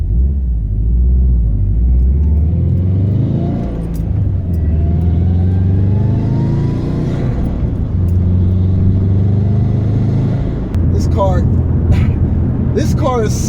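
A turbocharged Subaru WRX accelerates hard from close by. A deep rumbling engine note climbs through several gear pulls with steady intake whoosh, and a voice talks over it.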